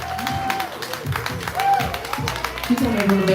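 Audience at an open mic poetry night clapping and cheering as a poet walks to the stage, with an amplified voice speaking over the steady applause, near and lively.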